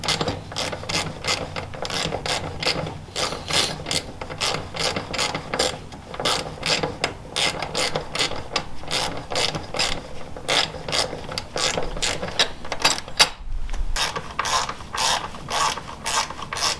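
A hand ratchet loosens the two bolts of the OEM cover on a 2020 Yamaha YFZ450R quad in a garage, clicking in fast, steady runs of close sharp pawl ticks with a brief pause near the end.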